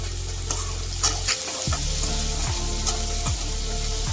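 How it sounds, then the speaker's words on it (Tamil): Steady sizzling of onions sautéing in oil in a pan, with a few scraping stirs of a utensil and no voices. "நறுக்கிய பெரிய வெங்காயம் போட்டு நல்லா வதக்கி எடுத்துக்கலாம்."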